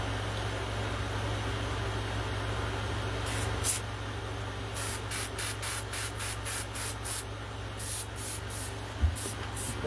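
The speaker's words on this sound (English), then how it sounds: "just kind of strip spray some pink in there" Pink paint sprays onto a latex Jason Voorhees mask in short hissing bursts. Several quick sprays cluster over a steady background hum, close and fairly loud.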